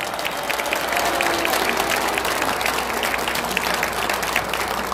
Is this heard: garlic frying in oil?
no